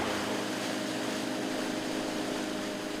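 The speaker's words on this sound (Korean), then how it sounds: "북극권 낚시 체험을 위해 보트를 타고 신나게 호수를 달렸는데요" A motorboat roars steadily as it speeds across an Arctic lake, a close, continuous engine drone mixed with wind and water rush, with no voices.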